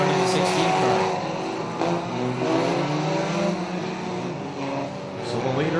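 Bomber class race cars run laps on an oval track, with a steady engine roar as the pack passes and swells in and out. A commentator talks over the cars throughout.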